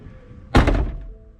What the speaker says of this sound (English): when you shut the door and the window is down inside the door and not up,